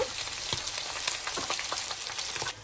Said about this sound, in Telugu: ఆనియన్స్లో కొన్ని పచ్చిమిర్చి కొంచెం కొత్తిమీర పుదీనా వేసి ఇలా ఫ్రై చేసుకోవాలి